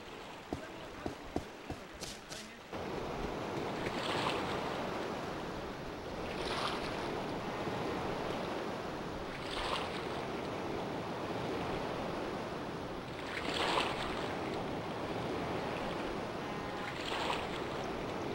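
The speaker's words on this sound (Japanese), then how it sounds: "瀬戸内は波の音が静かなんだ。" Gentle ocean waves on the Seto Inland Sea shore in the video game Boku no Natsuyasumi 4: soft surges wash in every few seconds over a constant breezy hush, after a few faint clicks at the start.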